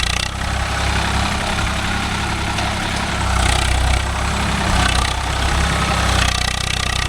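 An old Swaraj 744 FE tractor engine runs steadily in a dryland field with a nine-tine spring cultivator, a loud close chugging drone that swells slightly midway, with no talk.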